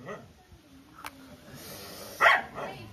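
A dog gives a short bark late on, close and fairly loud, amid low background noise and brief talking.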